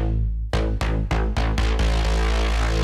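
A Voyager 8 wavetable bass shaped into a pluck plays six quick notes in a steady rhythm, each with a bright attack, then the last note is held long and loud, with no voices.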